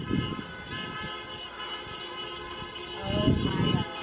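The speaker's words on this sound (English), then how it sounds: "They're just beeping all the way around." Car horns honking in a slow drive-by graduation parade, tonal beeps near and far layered over one another, with a louder burst of honking near the end.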